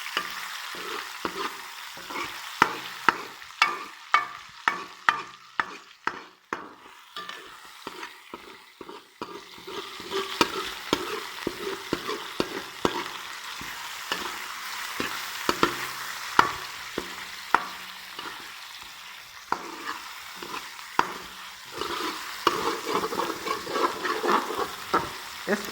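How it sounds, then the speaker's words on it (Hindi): Chicken pieces sizzle and fry in a pan for palak gosht while a spoon repeatedly scrapes and stirs, giving rhythmic clatters over a continuous crackle, close and fairly loud. "इस स्टेप के ऊपर आके आप चिकन को जितने अच्छे से फ्राई करेंगे इतना ही सालन का टेस्ट मज़ेदार आएगा"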